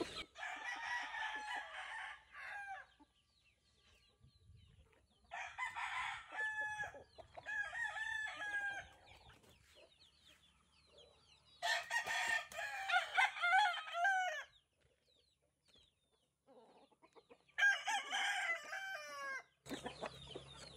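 Pet chickens in a yard: a rooster crows loudly several times in separate bursts, with hens clucking and quieter sounds in between, fairly close and with no talk over it.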